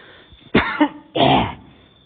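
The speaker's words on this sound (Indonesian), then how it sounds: "batuk-batuk." Two harsh coughs close to the microphone, separated by a short pause, with faint background hiss, from a person with COVID-19.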